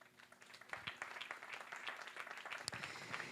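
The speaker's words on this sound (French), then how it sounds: "Aditya, qu'on peut applaudir" A small audience at an awards ceremony gives faint, scattered applause as a prizewinner comes up on stage, the claps quiet and thin, with slight crowd murmur.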